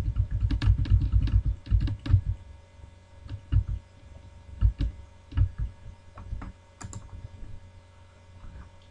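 Keys on a computer keyboard clatter in quick bursts and isolated taps during Ctrl C and Ctrl V shortcuts, close and fairly loud at first, then sparser clicks over a steady low hum.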